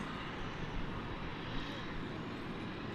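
A UPS cargo plane at DFW airport at night, a steady broadband jet engine roar holding level for the whole stretch, moderately loud and distant, with no voices.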